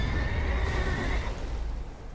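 A horse whinnies loudly in Elden Ring's Abyssal Woods, its long, wavering neigh lasting about a second over a dense, rumbling game ambience, then fading as the background continues.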